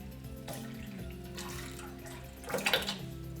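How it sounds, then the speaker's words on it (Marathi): Buttermilk poured from a glass into cooled sorghum ambil: a soft, quiet liquid pour with a brief louder splash near the end, alone and close. "याच्यामध्ये आपण ताक घालून घेऊया एक ग्लास ताक घेतलेला आहे"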